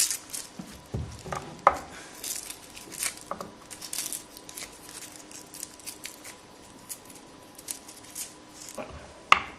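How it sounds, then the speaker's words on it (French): Garlic cloves being peeled by hand, with scattered dry papery crackles, small clicks and knife-like taps, close and fairly quiet, with a steady faint hum underneath and no talking. "Nous allons éplucher maintenant l'ail."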